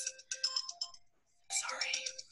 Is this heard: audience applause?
no